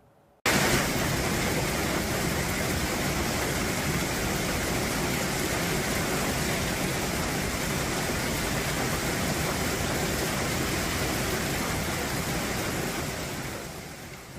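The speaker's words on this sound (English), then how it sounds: "the sound of that downpour of large hailstones" Large hailstones pounding down on cars during a Texas storm, a dense, steady roar of impacts that starts abruptly and holds constant, easing slightly at the very end as a car alarm begins.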